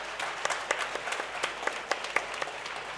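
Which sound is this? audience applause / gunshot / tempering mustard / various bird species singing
audience applause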